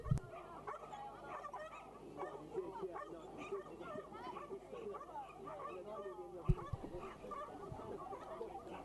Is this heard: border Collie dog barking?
yes